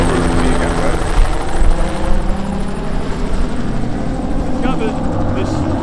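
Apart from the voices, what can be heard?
sheriff's helicopter flying overhead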